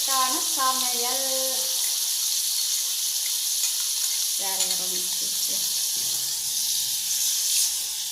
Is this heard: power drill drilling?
no